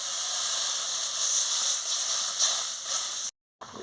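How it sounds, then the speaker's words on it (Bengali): Water poured into a pan of cooking vegetable curry with eggplant, radish and turnip gives a steady, bright hiss and sizzle lasting about three seconds before cutting out abruptly. "এবারে জল দিয়ে দিচ্ছি।"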